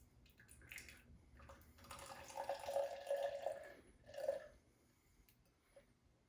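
A cocktail poured through a strainer into a glass, a soft gurgling trickle of liquid that swells for a few seconds, pauses, and ends with a final splash, quiet and close.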